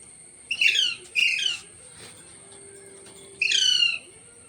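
Green Fischer's opaline lovebirds, a breeding pair, let out three sharp, harsh squawking bursts close by, two in quick succession and one after a pause, over a quiet background.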